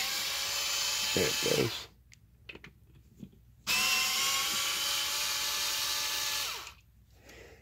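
A cordless impact driver backs screws out in two long, loud, high whirring runs separated by a pause with small handling clicks; someone speaks briefly.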